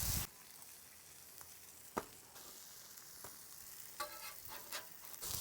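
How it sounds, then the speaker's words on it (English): Ribeye beef fat and onions cook on a flat griddle, making a soft, continuous sizzle with a few sharp crackles and pops over a quiet background. "You got all that beef fat from the ribeye and the onions cooking away."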